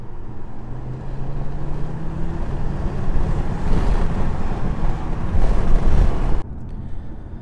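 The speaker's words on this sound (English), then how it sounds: "I'm going to show you a little bit of the 5-pot cylinder noise." A Ford ST five-cylinder engine drones steadily while driving, a low rising hum under heavy road and wind rumble that cuts off abruptly near the end.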